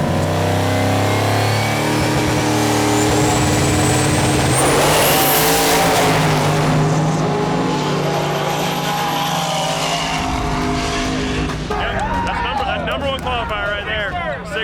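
A drag race car accelerates hard as its turbo builds boost, rising to a loud roaring howl before dropping off, while a commentator talks over the engine.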